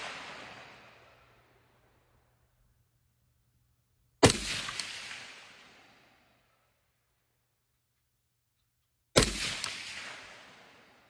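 Three sharp suppressed rifle shots fired in extreme cold, spaced about five seconds apart, each a loud crack with a long fading tail, with near silence between them.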